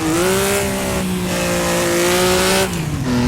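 A race car in the Assetto Corsa sim screams at high revs, the engine note dipping and climbing as it downshifts through the gears at the end of a straight, loud and continuous with no talk.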